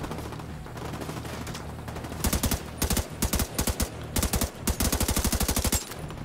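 Automatic gunfire in The Division 2 starts after a quiet couple of seconds, then loud, fast bursts of shots follow in quick strings, close and dominant.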